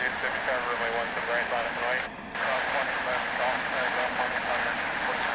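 An Alaska Airlines jet taking off at DFW International Airport gives a steady, broad engine roar throughout, with a brief dip midway and someone talking over it.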